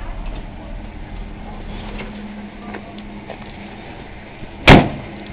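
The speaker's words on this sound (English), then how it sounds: "Doors just click shut." A 1960 Chevrolet Apache truck door clicks shut once near the end, a single sharp close, after a stretch of low background rumble.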